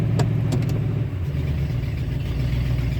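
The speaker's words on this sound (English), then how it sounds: "I'm still idling high about 1500. Seems to be staying at 1500 in park." A 2000 Ford F150 engine idling high at about 1500 RPM in park, a steady, loud, close mechanical drone with no talk.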